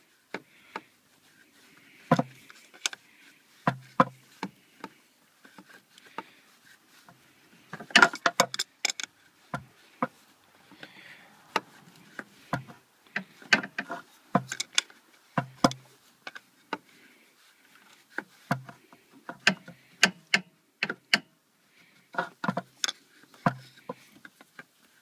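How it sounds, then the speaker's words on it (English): A big adjustable wrench works the oil filter cap on a GM Ecotec engine, making sparse, sharp metallic ticks and clanks at close range, scattered irregularly with quiet gaps between them. "Until you hit that O-ring, and then you're going to need to use a wrench. This is just a big adjustable wrench"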